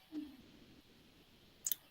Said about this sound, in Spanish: doy clic